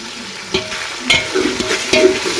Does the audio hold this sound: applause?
no